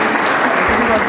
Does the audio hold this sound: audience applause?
yes